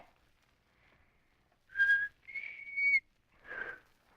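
A few short whistled notes, a quick high tone followed by a sustained pitch and one more brief note, quiet and alone against near silence.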